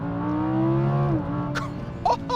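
An Audi R8 V10 launching flat out from standstill with manual gear shifts, its engine note climbing steadily and loud, then dropping at a shift near the midpoint, followed by a few short sharp bursts and an exclamation from the driver.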